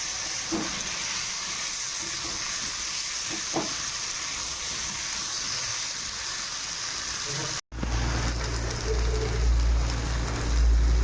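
Potatoes fry with spices in a hot pan for aloo dum, giving a steady, close, hissing sizzle with a few faint clinks. After a sudden cut it turns into a louder, rumbling crackle.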